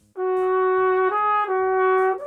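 A trumpet holds one sustained, rather strained note with strong harmonics, a wavering tone and slight dips in loudness, played alone for about two seconds.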